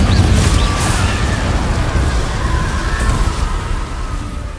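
A fire spell cast in the Hogwarts Legacy video game, a loud sustained whooshing, roaring burst of flame with deep rumbling underneath, holding steady for several seconds before easing slightly.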